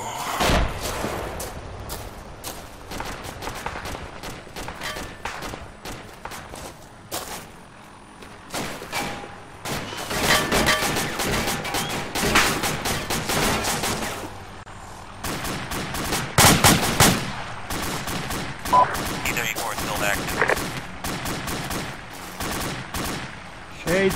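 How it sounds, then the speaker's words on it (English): Bursts of gunfire in an online military shooter, with AK rifle and automatic fire cracking in rapid, irregular volleys near and far among buildings, loud clusters separated by brief lulls. "I'm pretty well set up to come around the back side and fire a few shots into it."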